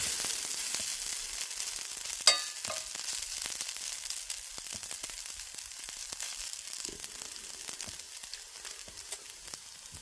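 Metal-on-pan scraping while breakfast cooks in a home kitchen, with a steady close sizzle and scattered scrapes and clicks, one sharper scrape a couple of seconds in.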